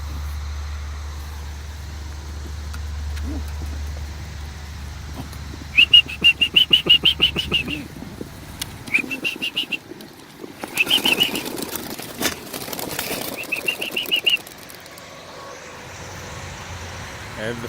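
A flock of young homing pigeons bursts from a release box at an 18-mile toss, and a cluster of wing flaps clatters out over several seconds, with distant road traffic humming before and after.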